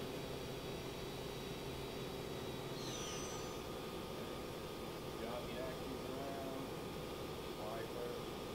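An Okk VM7 CNC vertical milling machine with a Fanuc 16iM control runs its spindle at 8,000 RPM, giving a steady, continuous whine over broad, even machine hiss that holds at one level throughout.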